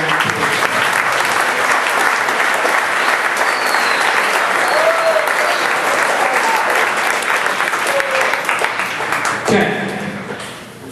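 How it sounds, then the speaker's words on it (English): Sustained applause from an audience at a youth soccer camp, dense and steady hand clapping for about ten seconds before tapering off. "So let's give those guys a round of applause."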